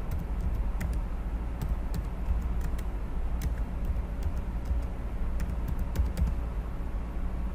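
Debit card payment details are tapped into a computer keyboard. Light, irregular key ticks sound faintly over a steady low background hum.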